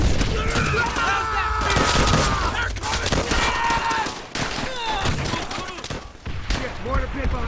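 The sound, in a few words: gunfire in video game Call of Duty: World at War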